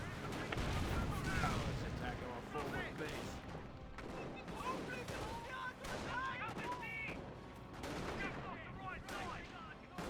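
25-pounder artillery and other gunfire in a Company of Heroes 1 battle, repeated sharp firing bursts in a dense stream, heard under continuous talking.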